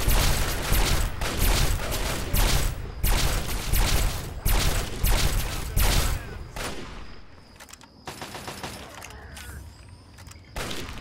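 Rifle gunfire in Fallout 3 during combat in confined areas, a rapid series of loud, evenly spaced heavy shots over the first six seconds, then sparser, quieter shots and mechanical clicks.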